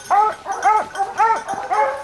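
Pack of hunting hounds barking and yelping outdoors at a pack trial, quick repeated excited cries in a steady rhythm, fairly close and loud.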